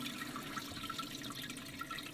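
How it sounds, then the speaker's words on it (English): A Horow T38 smart toilet runs water through a cycle, producing a steady rushing, flushing wash of water at moderate level without pause. "Whoa, and then it's putting more water through."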